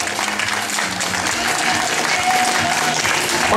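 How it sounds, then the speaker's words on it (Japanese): Audience applause fills a pro wrestling event hall right after a heavyweight title bout, a steady dense clapping that holds loud and even across the clip. "大きな拍手をお願いいたします。"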